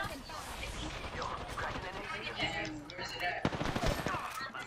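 Rapid gunfire from a first-person shooter match in Apex Legends, dense bursts running continuously at steady volume with a sharper volley near the end, mixed under game sounds and talk.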